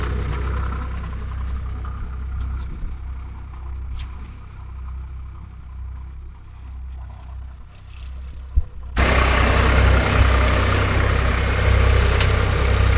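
A Swaraj tractor engine, 855FE or 744XT model, runs steadily with a low idling rumble, then abruptly grows much louder and fuller partway through, staying strong to the end.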